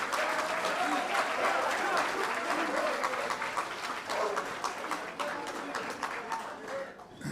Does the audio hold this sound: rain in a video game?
no